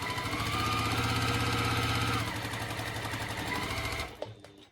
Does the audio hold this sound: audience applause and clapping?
no